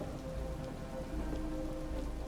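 Steady rain falls in a dense, even hiss of drops on surfaces, constant and fairly soft, with a low rumble underneath and no voices.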